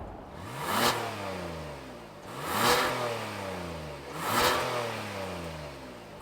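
The V6 engine of a 2023 Kia Telluride SX revs three times in a steady cycle, each swelling louder then easing back to a rumbling idle close by.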